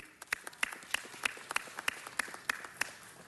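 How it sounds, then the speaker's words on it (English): A city council audience claps for students being introduced. A dozen or so sparse, evenly spaced claps come from a small group, fairly faint and heard from across the room. "Let's give each one of them a round of applause."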